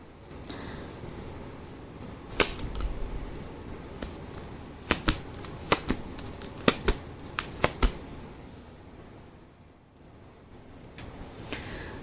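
Tarot cards being shuffled and drawn by hand, with sharp, close snaps and flicks scattered irregularly over a soft rustling background, several crisp cracks clustered in the middle.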